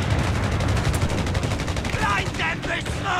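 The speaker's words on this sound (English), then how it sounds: "there's a machine gun down south" Rapid machine gun fire rattles in a Company of Heroes 3 battle in the Winter Line, dense bursts of shots under battlefield noise, with game voices calling out near the end.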